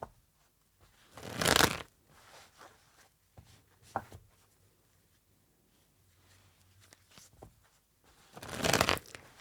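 A deck of tarot cards is shuffled up close in two brisk riffling bursts, one early and one at the end, with quiet card handling and small taps in between.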